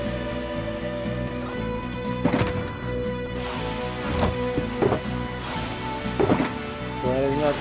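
Rain falls in the Minecraft video game as a steady hiss and patter, broken by occasional louder thuds, over sustained tonal game background sound.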